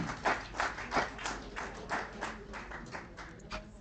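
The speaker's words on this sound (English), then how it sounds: "A round of applause for one more time" Scattered applause from a small audience at a reunion and launch event, individual claps distinct and fairly faint, tapering off gradually over a few seconds.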